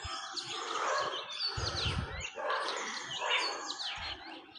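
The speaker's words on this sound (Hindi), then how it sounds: "इस पेड़ में 4 ग्रे हॉर्नबिल हैं, कुछ बात कर रहे हैं आपस में।" Four grey hornbills in a tree call to one another in repeated harsh, squealing phrases, fairly near and clear, with short pauses between bursts and no talk over them.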